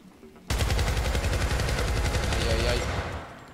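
A sudden burst of rapid automatic gunfire in the PC video game Syndicate starts abruptly and rattles continuously for about three seconds, loud and close, then cuts off.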